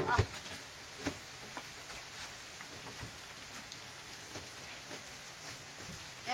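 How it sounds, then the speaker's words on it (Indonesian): Steady rain hisses evenly as a broad wash of noise with occasional louder drops and taps, heard at a moderate distance under faint background sounds and no clear talk. "Kedoi hujan serius."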